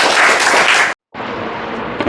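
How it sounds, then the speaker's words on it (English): A crowd claps steadily and loudly at a Teachers' Day speech event, a dense burst of applause that cuts out briefly, then resumes just as full. "clap for her"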